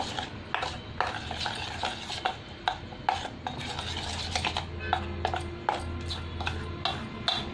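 A batter being stirred in a bowl with a utensil for a Telugu chilli fritter recipe, giving irregular scraping and clinking taps against the bowl, close and moderately loud, with no talking.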